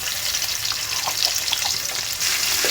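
Ginger-garlic paste fries in a pan with onion, a dense, continuous close sizzle with faint stirring clicks, loud and steady throughout.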